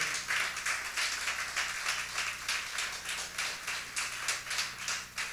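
A church congregation applauds during a Portuguese-language sermon. The clapping is faint and distant, a steady broadband patter that runs the whole time, with no voices over it.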